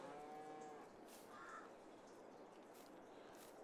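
A cow in the video game Farming Simulator 22, on a Swiss dairy farm, moos faintly in one short drawn-out call early on, set in a low steady ambient farm background with no talking.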